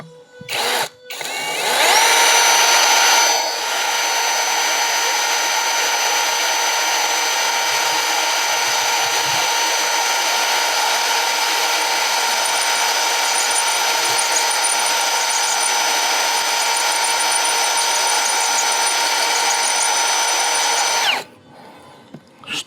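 A cordless YUANSEN drill runs with a bit against glass, starting with a sharp rev, then a long steady close whine with a high pitch that holds for about twenty seconds before stopping.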